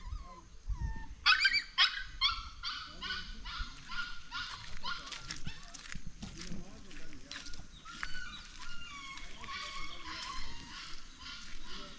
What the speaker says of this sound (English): See the dog speaking sound from this part.